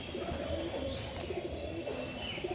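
A Dhanewala pigeon gives a brief, steady cooing close by, with no voices.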